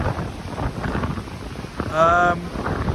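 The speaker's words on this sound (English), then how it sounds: "It's quite windy." Wind buffets the microphone at the coast at Gouritsmond, South Africa, with a steady low rumble and roar throughout, and a brief tonal whine rises near the end.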